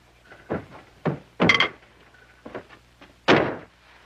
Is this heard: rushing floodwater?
no